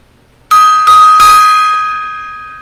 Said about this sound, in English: A little gong time there.